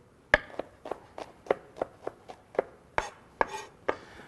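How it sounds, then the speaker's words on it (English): Garlic cloves being mashed for chimichurri, a steady series of about a dozen crisp knocks on a cutting board at roughly even intervals, close and fairly quiet, with no talking. "I like to just kind of mash them down a little"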